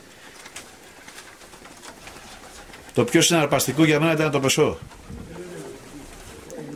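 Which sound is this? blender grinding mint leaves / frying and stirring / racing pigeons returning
racing pigeons returning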